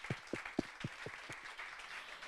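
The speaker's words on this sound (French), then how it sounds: "je vous demande d'applaudir bien fort" An audience claps at a business pitching contest, a sparse run of about eight distinct hand claps that thin out and fade into a soft spattering of applause, fairly faint.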